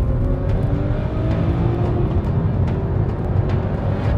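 A 2013 Volvo S60 Polestar accelerating hard from a rolling start, its engine roaring loud and close in a continuous rising surge through the gears, with faint ticks and rumble over it.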